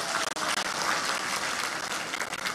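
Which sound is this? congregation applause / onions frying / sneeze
congregation applause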